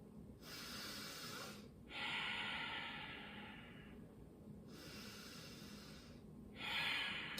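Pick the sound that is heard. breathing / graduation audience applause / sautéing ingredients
breathing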